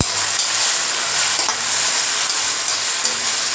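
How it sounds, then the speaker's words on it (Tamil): Vegetables with salt and turmeric sizzle and crackle loudly in a hot pan while a utensil stirs them, with a few scraping strokes against the pan. "இப்போ இதை நல்லா மிக்ஸ் பண்ணிக்கோங்க"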